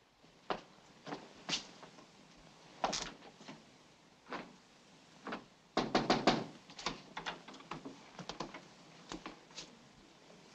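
Knocks on a door in a 1945 film-noir drama: several separate bursts of sharp raps, some single and some in quick clusters, spread over about ten seconds with quiet gaps between them and no talk.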